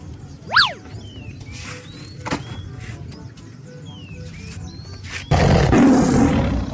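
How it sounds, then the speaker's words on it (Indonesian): Tiger roar, one short loud burst near the start, followed by scattered squeaky chirps over a low rumble and a louder broadband noise toward the end. "harimau sepertinya"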